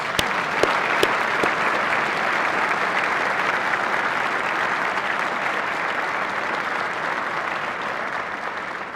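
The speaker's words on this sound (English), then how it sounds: "Please join me in a round of applause for our distinguished guests." An audience at a state judiciary address claps for distinguished guests, a dense, sustained round of applause that holds steady throughout with a few sharp individual claps at the start.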